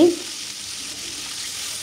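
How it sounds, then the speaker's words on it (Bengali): Chicken pieces frying over high heat in a pan, a steady broadband sizzle that stays even for the whole moment after a brief louder onset. "আমি একটু বেশি করে আঁচে ভেজে নিচ্ছি।"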